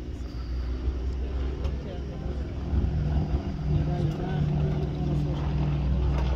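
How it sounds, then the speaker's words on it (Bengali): Bangladesh Air Force aircraft flying a split-S manoeuvre at an air show in Jashore; a steady, loud engine roar rumbles throughout, with an announcer talking over it. "এবার বিমানটি অত্যন্ত দক্ষতার সাথে প্রদর্শন করবে স্প্লিট এস ম্যানুভার"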